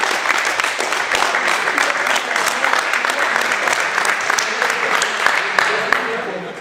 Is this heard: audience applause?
yes